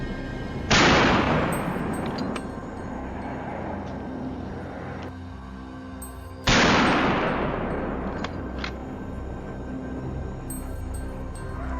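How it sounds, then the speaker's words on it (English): Gunfire during a wild boar hunt in Florida, two loud, close shots, each with a long booming echo that rolls away over several seconds. "A gunshot rang out, tearing the quiet atmosphere apart, and the boar collapsed on the spot."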